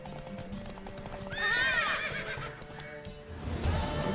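A horse whinnies loudly in a rising, wavering neigh, with hoofbeats and game sound effects around it, in The Witcher 3: Wild Hunt.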